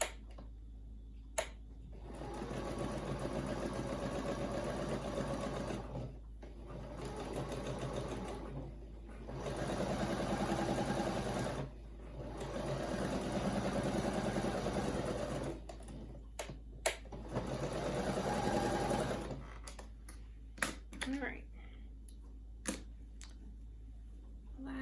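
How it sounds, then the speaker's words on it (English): A sewing machine runs in several bursts, stitching a quilt block for a scrappy granny squares throw, its fast rhythmic chatter stopping and starting between short pauses with small clicks, close and fairly quiet. "Sew that last little block in place."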